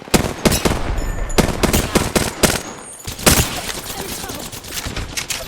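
Rapid video game gunfire bursts from a shooter played on a Lenovo IdeaPad 3 Gen 6 laptop, loud repeated volleys in quick irregular clusters with short pauses, overlaid by in-game voice callouts.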